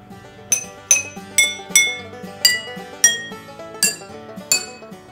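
A spoon taps a row of water-filled glasses like a xylophone: eight clear, ringing clinks at different pitches, evenly spaced, each one fading out, close and alone.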